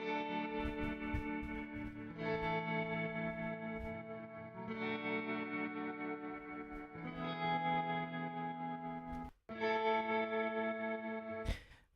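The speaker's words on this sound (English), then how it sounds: "Okay, so I'm lightly playing on the guitar strings" Electric guitar played lightly through a wobbling vibrato effect, sustained chords shifting every couple of seconds with a brief cutoff near the end.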